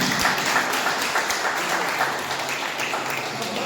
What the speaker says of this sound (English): A big round of applause for his team.